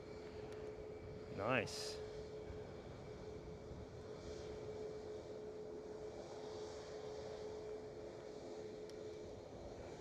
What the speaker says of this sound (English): It's another one of their A321 XLRs inbound from Dublin.